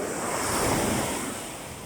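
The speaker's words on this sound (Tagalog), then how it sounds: "Napakalakas po ng alon." Strong ocean waves surge and crash in a loud, continuous roar, swelling and easing slightly, with wind buffeting the microphone.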